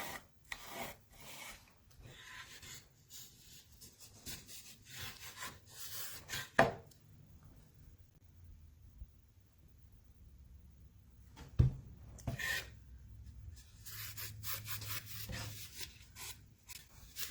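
Baltic birch wood loom being lightly rubbed, with soft intermittent scraping and rubbing strokes, close and quiet, separated by pauses and a couple of sharper knocks, no talking.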